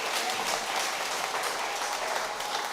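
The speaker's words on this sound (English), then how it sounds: "Can we keep clapping for Janeen?" Sustained audience applause for someone speaker after a leadership talk, a dense even wash of many hands clapping at steady loudness throughout.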